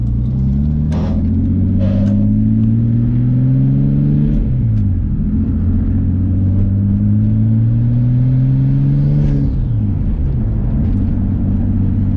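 A Nissan Skyline R33 GTST driving, its engine humming loud and close from inside the car, rising in pitch through two long accelerations, each with a drop at the gear change.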